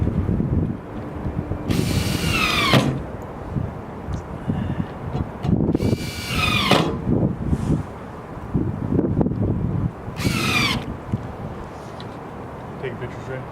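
A power drill drives screws into a chimney crown outdoors, three separate whirring bursts each lasting about a second, close by, with wind noise and someone speaking between them.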